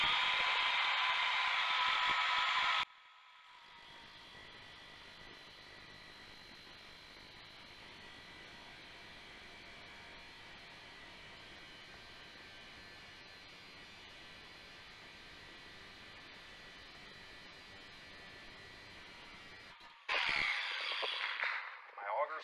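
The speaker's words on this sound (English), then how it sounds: "So I'm going to cut the auger." A feed line auger being cut, heard as a loud harsh buzzing burst for a few seconds, a long quieter stretch of low background noise, then another short loud rasping burst near the end.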